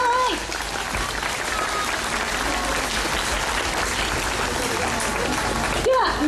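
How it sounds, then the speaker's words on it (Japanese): Steady, dense audience applause fills a talk show event at an international festival in Japan, continuing evenly throughout with faint voices and a brief tonal sound mixed in. "盛大な拍手をお送りください。"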